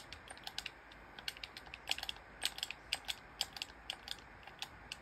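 Quick, irregular clicks of typing on a computer keyboard during a Fortnite session, faint and close, with bursts of keystrokes and no talking.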